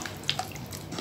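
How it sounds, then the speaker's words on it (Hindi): Water is poured into a pan of potatoes and fenugreek leaves for a home-cooked aloo methi, making a brief, steady splashing wash with a few soft drips and no talking. "अब इसमें मैं ऐड कर दूंगी पानी"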